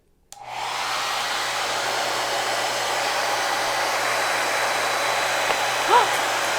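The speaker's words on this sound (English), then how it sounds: "I'm going to put the hairdryer on this end, blow that air" A hair dryer switches on and blows a loud, steady rush of air through a long tube, holding constant for several seconds with a faint brief squeak near the end.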